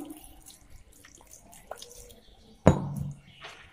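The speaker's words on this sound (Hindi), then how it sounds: "थोड़ा पानी डाल दें" Water is poured into mashed bael fruit pulp while making bael sherbet: one sudden splash that settles into a short burbling pour, following quiet background clatter.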